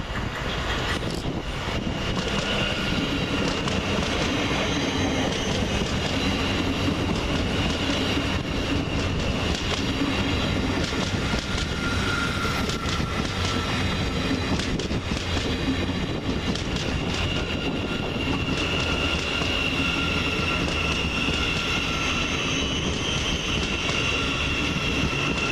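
A Greater Anglia Stadler FLIRT unit, 755409, pulls into Peterborough station on a service from Ipswich with a sustained rumble, rail clatter and occasional wheel squeal, loud and near throughout.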